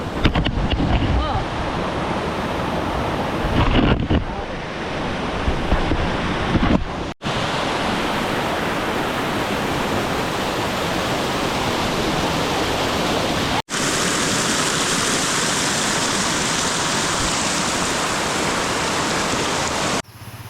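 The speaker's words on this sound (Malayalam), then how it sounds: "മണശ്ശേരി വാട്ടർഫാൾസിന് ഏറ്റവും ടോപ്പിലാണ് ഇവിടെ നിൽക്കുന്നത്" Madassery waterfall in Thiruvananthapuram, heard from the top, gives a loud, continuous roar of rushing water. Wind buffets the microphone heavily in the opening seconds.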